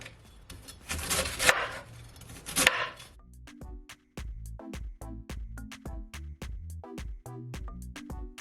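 A kitchen knife chops cabbage on a cutting board: a couple of rustling, crunchy slices first, then a quick run of about fifteen sharp, evenly spaced knocks close by.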